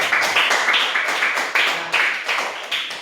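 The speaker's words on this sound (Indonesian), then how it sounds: "kasih tepuk tangan Kian dulu, dia baca baik." A classroom of pupils clapping for a classmate's reading, a close, steady burst of many hands lasting about three seconds with no talk over it.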